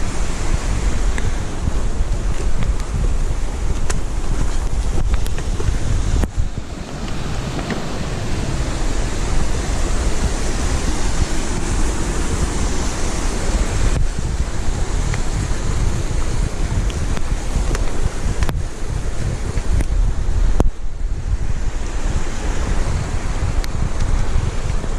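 A small, steep mountain creek with waterfalls on the Black Forest Trail rushes loudly and continuously close by, a dense unbroken roar of falling water with slight swells.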